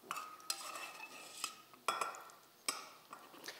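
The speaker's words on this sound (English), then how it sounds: "So I'm going to pull off a good amount of this bacon." Crispy bacon pieces lifted from a hot pan with a metal utensil, giving several sharp scraping clinks at irregular intervals over a faint background sizzle, close and moderately loud.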